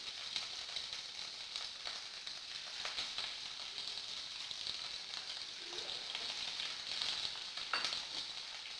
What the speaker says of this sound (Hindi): हमने बस सिंपली कबाब को उठाना है और उठा के तेल में डाल देना फ्राई होने के लिए